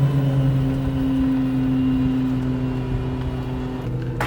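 A Kandi Innovator e10k electric UTV drives around a yard, giving off a steady electric motor whine with a sustained tonal hum and some faint mechanical rattle, with no speech.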